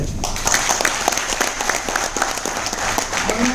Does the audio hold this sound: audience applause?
yes